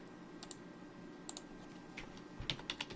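Someone types a terminal command on a computer keyboard while setting up Ubuntu 20 LTS on an Aya Neo handheld, producing soft, quick key clicks in scattered bursts over a low steady hum, close but quiet.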